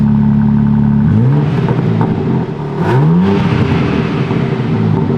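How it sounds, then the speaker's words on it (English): A BMW M3 G80 on its stock exhaust with the valves open idles loudly at close range, then gives two quick blips of the throttle that swell the engine note and fall back to a rumbling idle. "oh, valves open, of course."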